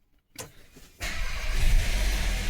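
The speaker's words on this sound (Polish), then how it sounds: "przychodzi, otwiera samochód, wsiada i odpala" A car door thunks, then the engine of a 2025 Audi Q3 cranks and catches, settling into a steady rumbling idle close by.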